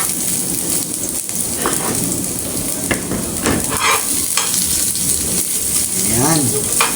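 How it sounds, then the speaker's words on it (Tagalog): Chopped garlic hits hot cooking oil in a pan and sizzles steadily, with occasional scraping and stirring sounds over the continuous frying hiss. "Ayan, umiinit na ating mantika. And now ilalagay na natin ating bawang guys."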